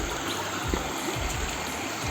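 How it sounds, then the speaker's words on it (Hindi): Bodom Bodom waterfall in Tripura, a steady rushing wash of flowing water heard close and continuous with no voices. "अभी हम लोग वाटरफॉल पे आ चुका है"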